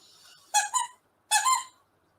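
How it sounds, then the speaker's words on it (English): A dog squeezes a squeaky rubber toy ball, giving two quick double squeaks close up, each pair sharp and high, separated by a short pause in otherwise quiet surroundings. "the dog's squeaking the ball"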